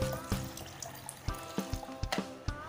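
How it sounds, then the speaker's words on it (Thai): A small splash of water poured into a coconut mixture already seasoned with sugar and salt, with soft trickling and a few light knocks, fairly quiet. "เติมน้ำเล็กน้อยนะคะ"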